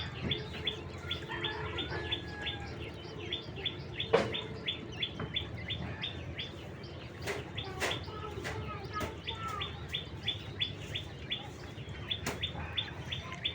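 White king quails chirp in quick, repeated high calls over a steady background murmur, with a few sharper clicks mixed in, moderately close and with no talking.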